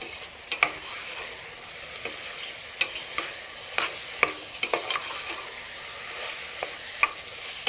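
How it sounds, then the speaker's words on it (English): Spices are stirred into meat, onions and peppers simmering in a pan for chili, with a steady soft sizzle under scattered scraping and clinking strokes of the spoon. "we're going to stir all those together and let them simmer with the meat and onions and peppers"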